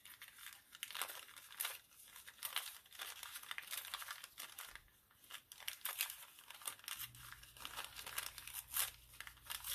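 Paper being torn by hand for a nature-themed junk journal page, a close, dry crinkling and ripping that comes in irregular bursts throughout, with a low steady hum joining partway through.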